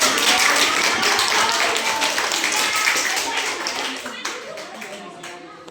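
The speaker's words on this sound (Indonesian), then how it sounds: "Dari kelompok tepuk tangan dulu." A group of students in a classroom claps together in a loud, brisk burst that thins and fades out over several seconds, with voices heard underneath.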